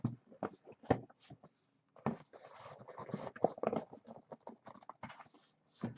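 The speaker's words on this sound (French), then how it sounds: "Et on va ouvrir le deuxième colis." A cardboard parcel is opened by hand, with close, irregular scrapes, taps and tearing rustles in short clusters broken by brief quiet gaps. No one speaks.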